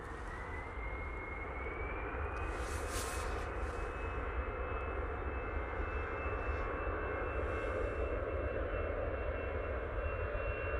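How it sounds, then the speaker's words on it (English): An EasyJet airliner departs toward Belfast, its jet engines a steady, continuous roar with a rising whine, heard at some distance and alone throughout. "That will be the EasyJet going off to Belfast"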